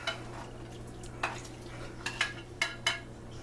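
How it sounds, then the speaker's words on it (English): Fish being stirred into a stew in a crockpot, soft scraping and stirring with a few light utensil clinks against the pot, close up and quiet, with no talking. "Just kind of stir and mix that in"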